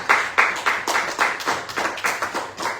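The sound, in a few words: congregation applause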